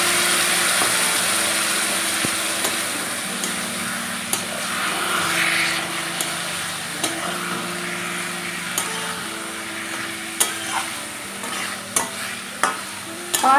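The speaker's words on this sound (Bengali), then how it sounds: "এইবারে সামান্য একটু জল দিয়ে খুব ভালো করে কষিয়ে নেবেন" Jackfruit curry spices with a splash of water are stir-fried in a pan, giving a steady close sizzle with occasional spatula scrapes, then a series of sharp knocks and clinks toward the end.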